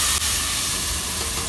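Onions tossed into hot oil for a home-style egg, potato and chickpea curry give a loud, steady broadband sizzle and hiss that fills the whole moment, close and continuous with no voices.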